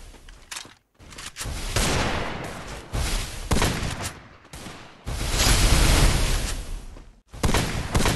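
SKS rifle gunshots in the mobile game Free Fire come as loud, dense bursts of firing separated by short silent gaps, with several heavy volleys packed close together and heard up front with no talking.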